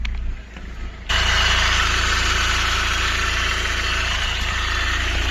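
A PT Cruiser CRD diesel engine idles with a rough, unhealthy noise, starting quiet for about a second before the steady, loud diesel clatter and rumble take over close by.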